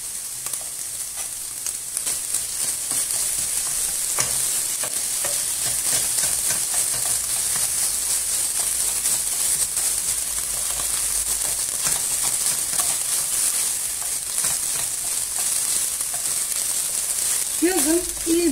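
Vegetables sautéing with tomato paste in a pan, a constant loud hiss and crackle with frequent stirring scrapes. A brief voice is heard near the end.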